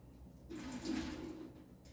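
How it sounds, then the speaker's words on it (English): Quiet, brief splash of water being poured into a paper filter in a Chemex coffee maker, swelling in the middle and trailing off, with no voices. "Just pour some of the water in it."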